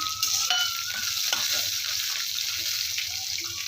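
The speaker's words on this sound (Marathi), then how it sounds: "शेंगदाणे, लसूण आणि आपण बारीक चिरून घेतलेली कोथिंबीर टाकायची." Peanuts, garlic and finely chopped coriander frying for a homemade thecha, with a steady close sizzle and scraping stirs over it, no talk.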